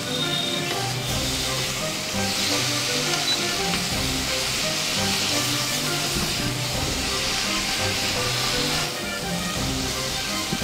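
Ginger paste frying in a pan for a Bengali fish curry gives a steady, close sizzle, a continuous bright hiss with a faint crackle that holds evenly throughout.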